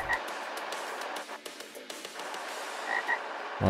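Repeated frog croaks in the video game TankCraft ring out clearly, a few bright calls spaced apart over a hissy, noisy background.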